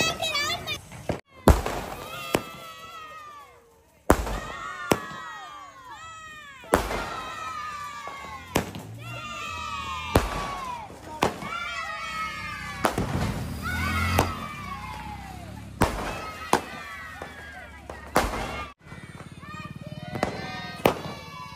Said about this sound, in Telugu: ఈ టపాస్ అయితే పైకి వెళ్ళి 30 టైమ్స్ బ్లాస్ట్ అయ్యింది